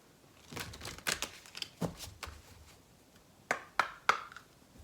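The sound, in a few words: shuffling dream cards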